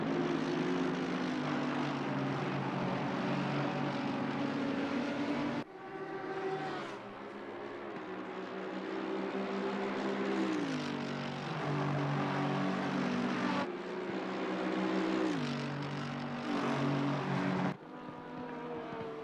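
A GT3 race car engine at a Barcelona six-hour race, strong and sustained with a harmonic drone whose pitch shifts and sweeps. It drops off briefly around two cuts as it passes nearer and farther.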